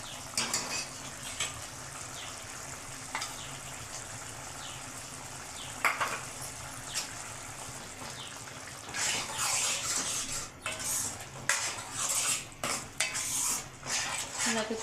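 A prawn fry with ginger paste is stirred in a metal pan: a spoon clinks and scrapes in irregular strokes over a soft sizzle, the clatter growing busier toward the end.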